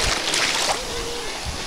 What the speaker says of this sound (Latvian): Tu pat ir jūra.